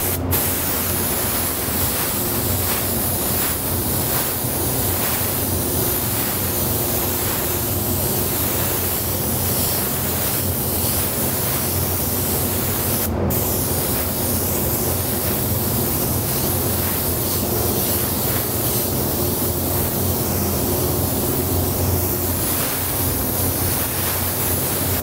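Paint spray gun run at high air pressure with very little fluid while laying down a candy fade, a continuous loud hiss of atomizing air, steady and close, with one brief break partway through.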